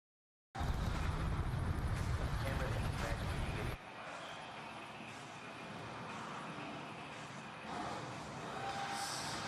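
Gunship aircraft kill streak in Call of Duty Black Ops 2 flies overhead as a loud, steady roaring drone with heavy low rumble, easing slightly partway through and continuing under game noise.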